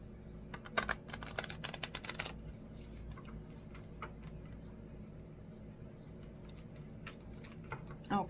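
Tarot cards being shuffled, a quick flurry of soft riffling clicks and taps up close, then lighter scattered ticks and handling noises.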